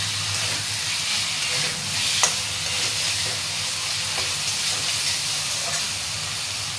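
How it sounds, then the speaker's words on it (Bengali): Fried fish pieces stirred into sizzling masala in a pan, a loud steady hiss and sizzle with occasional scraping clinks of the spoon, close and continuous with no talking. "এবার ভাজা মাছ 2 পিস তুলে দিয়ে ভালো করে নাড়িয়ে চাড়িয়ে নেব।"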